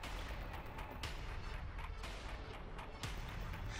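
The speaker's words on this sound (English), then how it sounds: "Oh, that must be mortar rounds." Mortar rounds in the first-person shooter DUSK, a series of heavy booming impacts about once a second over a constant rumbling battle din, fairly faint and without talk.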